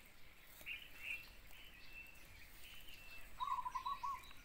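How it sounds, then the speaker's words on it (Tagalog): Birds chirping outdoors, a few short faint calls and tweets scattered over a soft background hiss, with a brief run of repeated notes near the end. "Daming ibon dun."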